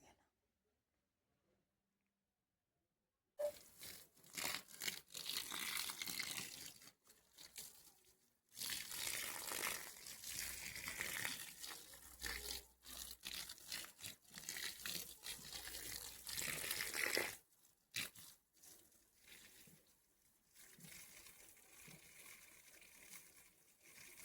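Water pours onto the dried-out soil of a backyard rose plant in a steady gushing splash, starting after a brief silence and running with a few short breaks, fairly close.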